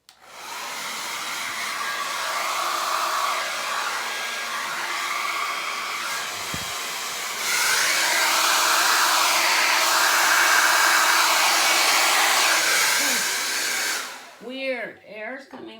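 A new hair dryer blows air continuously for about fourteen seconds, loud and close, its pitch shifting once as the setting changes, then it cuts off, leaving brief warbling tones.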